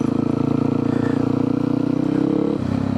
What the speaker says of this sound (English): just put the bike in second gear and just try to clutch up and just almost immediately hit the back brake